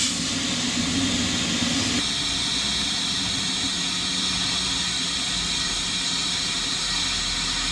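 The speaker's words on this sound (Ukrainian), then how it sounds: "вже чути звук чистої вихлопної труби. Послухайте." A Dnepr-12 K750 motorcycle engine, back running after 37 years of storage with a freshly cleaned exhaust pipe, gives a steady, loud hissing roar that drops slightly in level after about two seconds and then holds on evenly.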